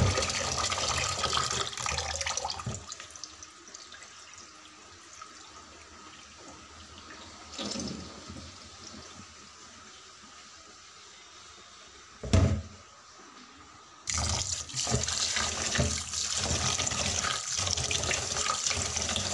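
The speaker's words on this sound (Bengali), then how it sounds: "চালটা ধুয়ে" Rice being washed under a running kitchen tap, a steady broadband rush of water filling a sink with a few brief pauses and a sharp knock midway, no talking.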